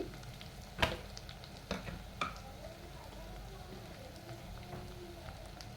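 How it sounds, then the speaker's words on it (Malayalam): Turmeric and coriander powder sautéing in oil in a pan for a tuna fish curry, a soft, steady sizzle with a few sharp spoon taps and scrapes early on. "ഇനി ഇതിന് നല്ലതുപോലെ നമുക്ക് വഴറ്റിയെടുക്കാം"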